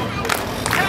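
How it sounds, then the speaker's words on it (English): A crowd at a live stunt show claps and cheers together, a short burst of scattered hand claps over a noisy, excited babble of voices. "Everybody do us a big favor and clap your hands like this."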